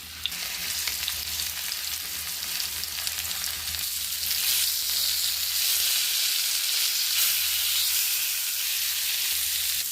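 Marinated fish frying in hot oil with curry leaves, a steady dense sizzle that holds loud and even, close up, with no voices.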